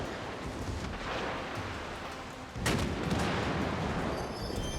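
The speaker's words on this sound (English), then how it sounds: "probably armed with the same standard 16-inch naval guns that everyone else has" 16-inch naval guns on a battleship firing in World of Warships Legends, a single heavy boom midway through over a steady rumbling background, moderately loud and without speech.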